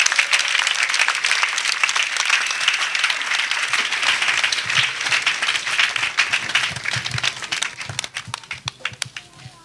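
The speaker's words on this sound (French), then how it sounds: "Let's clap for Jesus Christ" A church congregation at a salvation and healing service in Bingerville claps loudly and together, a dense burst of applause that thins into scattered individual claps toward the end.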